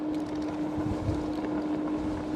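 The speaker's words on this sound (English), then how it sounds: "there is quite big strong wind in front of me" Strong headwind roars across the microphone while riding a 72V CityCoco electric scooter uphill: a steady, dense, close rush of wind buffeting with a constant tonal whine underneath and no talking.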